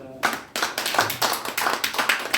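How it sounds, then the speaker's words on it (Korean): A church congregation claps together in a steady, rhythmic beat at a Sunday afternoon worship service, the loud claps evenly spaced and continuing after a brief start. "우리 박수 칩시다."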